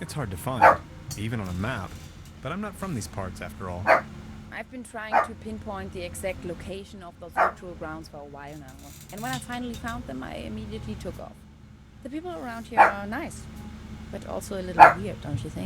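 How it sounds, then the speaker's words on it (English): A dog barks and yips intermittently in a room in the adventure game Trüberbrook, several sharp barks scattered under a person's continuous talking. "Sorry about the dog."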